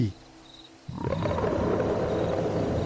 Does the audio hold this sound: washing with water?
no